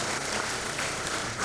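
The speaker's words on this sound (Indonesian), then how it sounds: "Tepuk tangan buat perguruan ini." Applause at an inauguration ceremony for the board of a Betawi martial-arts association, soft and steady crowd clapping heard from some distance, with no voices over it.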